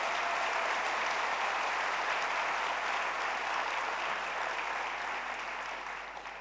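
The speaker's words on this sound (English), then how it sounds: "So please give a big round of applause to Sunny, Vikas, and the entire GSF team" Sustained round of applause from a large conference audience at an education summit's opening plenary, an even wash of clapping that softens slightly toward the end.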